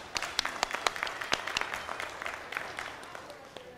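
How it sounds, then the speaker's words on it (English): Scattered applause from a modest audience at a youth public speaking event, individual hand claps distinct and fairly quiet, fading gradually over a few seconds. "Let's give another round of applause for Navina."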